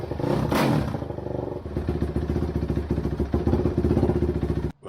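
The rebuilt engine of a 2005 Suzuki RM-Z450 motocross bike runs loud and close with a rapid, choppy single-cylinder beat. It rises in a brief rev at the start, then settles into a pulsing run before cutting off abruptly near the end.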